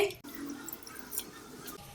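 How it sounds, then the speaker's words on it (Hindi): Water from a glass poured into a pan in a home kitchen, a steady splashing trickle running for about a second and a half before stopping, fairly quiet and close. "सबसे पहले हम पैन में 1 गिलास पानी शामिल करेंगे।"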